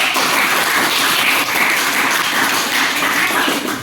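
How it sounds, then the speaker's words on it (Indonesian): Ninth-grade class 9C applauds in an Indonesian-language lesson at a junior high school, dense steady clapping from many students filling the room for the full stretch without pause. "Tepuk tangan dulu untuk 9C."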